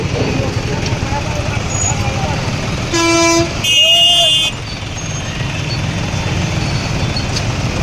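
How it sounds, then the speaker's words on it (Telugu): Steady road traffic rumble in Vemulawada during roadworks, with two short car horn toots in the middle, close by, over a constant hum of engines. "ఇక్కడ ట్రాఫిక్ చాలా ట్రాఫిక్ ఉంది"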